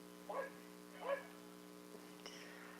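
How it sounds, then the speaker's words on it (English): Dogs barking across the street, two distinct faint barks a moment apart followed by a brief higher yip, distant over a steady hum. "the dogs are just barking and barking and barking all freaking day and night"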